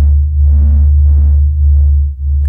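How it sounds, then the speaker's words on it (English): Pressure-wave oscillations of the sun, sped up 42,000 times into audible sound: a loud, deep, steady throbbing hum with slow swelling pulses and an eerie higher wash on top. "This is the sound of the sun singing."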